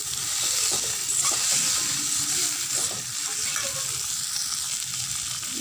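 Cooked green gram is stir-fried and mixed in a pan for a thoran with greens, giving a steady, close frying hiss broken by faint scraping of the spoon.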